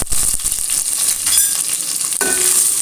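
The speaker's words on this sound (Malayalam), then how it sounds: "നല്ലോണം ഒന്ന് വഴറ്റിയെടുക്കാം" Sliced onion, two green chilies and curry leaves sautéing in a hot pan, a bright continuous close sizzle with crackling spatter and a few stirring scrapes.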